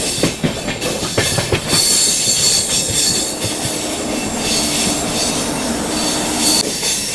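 A Rani Kamlapati Superfast train hauled by a WAP7 electric locomotive rolls past close by, with loud rumbling wheels, rhythmic clicks over rail joints and squealing wheel tones, steady and continuous without speech.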